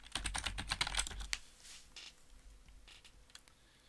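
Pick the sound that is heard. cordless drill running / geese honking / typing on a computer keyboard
typing on a computer keyboard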